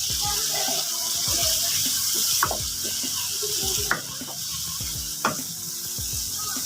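Chicken liver with spices sizzles steadily in a hot pan, with occasional clinks and stirring scrapes close by.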